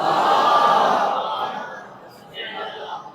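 Crowd chanting a slogan together at a religious celebration in a Shia mosque in Bhiwandi, a loud massed shout of many voices that swells, fades, then rises again briefly.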